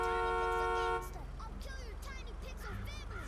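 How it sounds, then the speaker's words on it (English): A single car horn sounds a steady, fairly loud tone for about a second, then stops, leaving faint background noise with a few chirpy sounds. "I honked the horn just to see if somebody would come over here."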